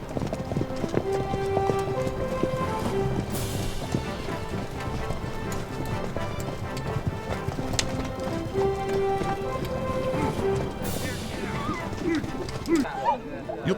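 Hooves clip-clop steadily as several horses are brought in from pasture on hard ground at a guest ranch in Buffalo, Wyoming, a continuous busy clatter with some background music and ambient noise.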